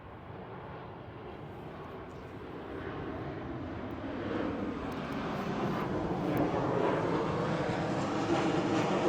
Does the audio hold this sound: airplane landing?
yes